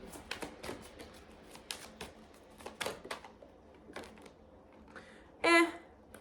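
Tarot cards being shuffled by hand, a run of soft riffling flicks and taps in irregular bursts, close and fairly quiet, ending with a brief louder rasp.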